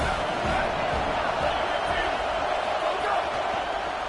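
A stadium crowd in a college football video game roars steadily as a dense, loud wash of noise, with no gaps and cheering swells throughout.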